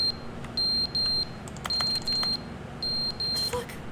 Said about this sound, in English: A fire alarm?